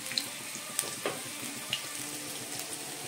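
Onions and green chillies fry in hot oil for vegetable Maggi noodles, giving a steady, close sizzle with a few sharper pops and crackles, and no voices.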